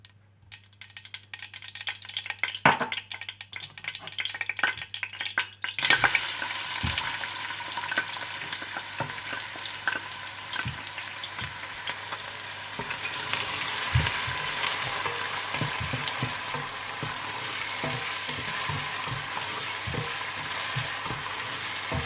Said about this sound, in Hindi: तो सबसे पहले आप तेल गरम कर लें और इसमें प्याज डालकर हल्के गोल्डन ब्राउन कर लीजिए